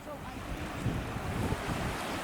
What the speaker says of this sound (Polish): Piękna plaża przed nami.